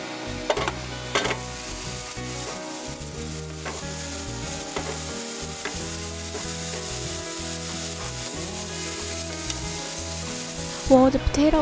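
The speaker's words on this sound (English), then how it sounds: "While the potatoes are getting stir-fried" Potatoes stir-fried in butter for the vegan Chinese dish Di San Xian sizzle steadily throughout, with a continuous fry hiss and occasional stirring scrapes beneath soft background music.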